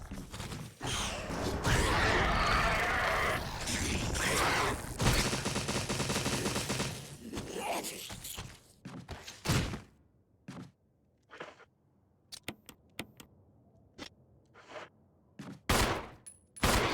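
Jill firing in Resident Evil 3: a dense burst of gunfire for the first several seconds, then scattered single sharp shots with pauses between them, loud and close.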